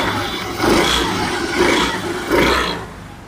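Rebuilt Honda Activa scooter engine running close by, a steady hum lifted by three short revs roughly a second apart, each swelling and then falling back to idle.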